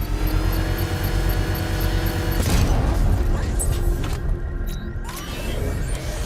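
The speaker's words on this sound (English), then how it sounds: "I can use the power winch to trigger a controlled explosion." A deep rumbling boom from a controlled bomb explosion in the video game Batman: Arkham Knight erupts midway through a steady mechanical drone, followed by crackling debris and lingering rumble.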